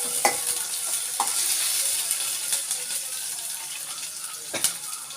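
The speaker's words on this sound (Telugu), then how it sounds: "పచ్చిమిరపకాయలు వేస్తున్నాను. ఎండుమిరపకాయలు కూడా వేసానండి. ఇవి కొంచెం వేగిన తర్వాత" Green chillies and dried red chillies fry in a pan for jeera rice with a steady soft sizzle, joined by a few brief stirring clinks. The cooking sounds close and moderately quiet, with no voices.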